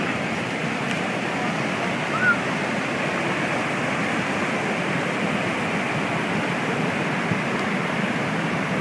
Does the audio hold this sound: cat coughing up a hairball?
no